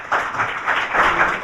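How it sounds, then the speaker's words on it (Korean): Audience applause at a Korean forum on the Kaesong Industrial Complex and peace on the Korean Peninsula, a short steady burst of clapping heard without talk. "큰 박수로 격려해 주시기 바랍니다"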